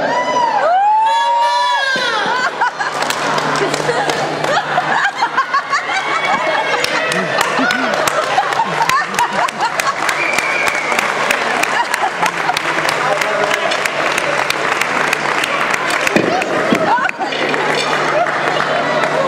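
A studio audience on a Galician television programme gives loud, sustained applause and cheers for Kiko Rivera, with shouts and whoops on top and voices audible in the crowd.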